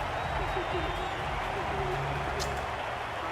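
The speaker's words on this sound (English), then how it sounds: "They will receive now the warmest of receptions from this crowd for a supreme display of batting" Crowd applause in the video game Cricket 22, greeting batsmen at an India versus Pakistan Asia Cup match, a steady broad wash of clapping beneath a commentator's voice.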